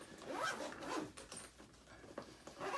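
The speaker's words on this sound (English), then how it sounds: "I zipped it closed." A clothing zipper is pulled shut in a few quick, close scratchy runs, fairly loud with no talking.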